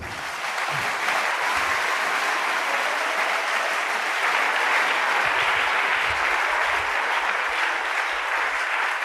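A church congregation breaks into sustained, dense applause and acclamation, a loud, even wash of clapping that fills the room without pause, with faint voices beneath.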